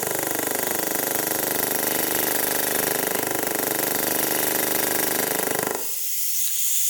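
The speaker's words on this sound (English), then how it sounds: "So now what I'll do is I'll turn the air back on." Compressed air hissing steadily through a 3-port pneumatic Mac valve on a boost control setup, loud and continuous with a pulsing tone layered on top, dropping to a softer hiss near the end.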